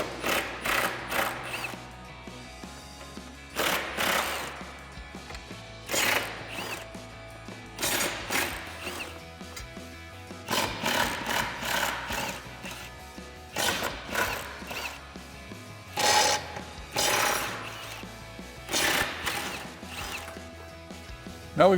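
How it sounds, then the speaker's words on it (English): Ratchet wrench with a 13mm socket backing out cross member bolts while installing an MBRP Armor Lite cat-back exhaust on a 2015-2016 Dodge Charger: repeated bursts of quick clicking, close and fairly loud, with short pauses between them and background music. "Now we'll remove the two cross members here and here using our"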